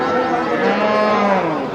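Cattle at the Melapalayam cattle market in Tamil Nadu give one long, loud, close moo that fills the moment alone.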